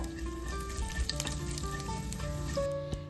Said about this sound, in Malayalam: അതിലേക്ക് അര സ്പൂൺ കടുക് ഇടുക കടുക് പൊട്ടി വരുമ്പോഴത്തേക്കും ഒരു സ്പൂൺ ജീരകം ഇട്ട് കൊടുക്കുക